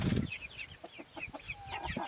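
Hens clucking outdoors in a backyard flock, a series of short, soft clucks and chirps spread across the moment, close by, with a brief louder burst at the start and no talking.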